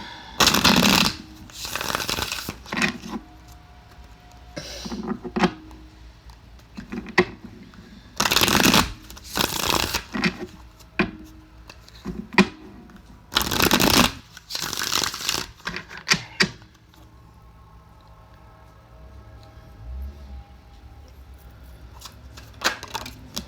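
Tarot cards being shuffled by hand in several loud crisp riffling bursts, separated by quieter handling and soft tapping, close and with no talk.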